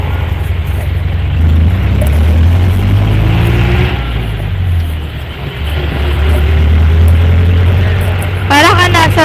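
A jeepney's engine drones loudly from inside while riding, a steady low rumble with gear shifts and road noise, and a voice talks briefly near the end.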